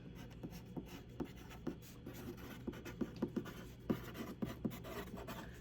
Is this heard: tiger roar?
no